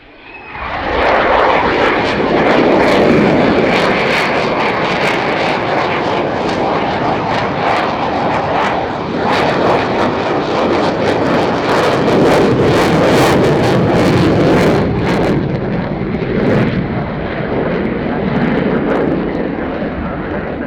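A Finnish Air Force F/A-18C Hornet jet flies a display with a Cobra manoeuvre at RIAT 2025, its engine roar loud and sustained throughout, shifting and surging with wind buffeting, while a commentator talks under it.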